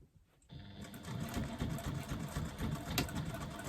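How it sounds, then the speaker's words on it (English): A sewing machine stitches along the bottom of a pocket with a 1/8 inch seam allowance. It starts after a brief pause and then runs in a steady, close, continuous mechanical whir. "hand stitching is just not going to happen. And stitch along the bottom of that pocket."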